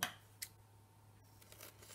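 Scissors snip through a paper doily in a couple of quick, crisp cuts near at hand, followed by faint paper rustling over a low steady hum.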